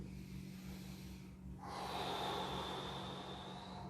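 A deep breath drawn in through the nose during a yoga mudra pose with the chest opened, a close, audible inhale that builds after a brief pause over a quiet background hum, with no talking.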